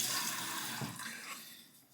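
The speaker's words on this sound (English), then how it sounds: "I'm going to put some warm water on the face before we start our face lather" Warm water runs and splashes softly at a bathroom sink while the face is wetted before shaving, a faint steady trickling wash that tapers off toward the end.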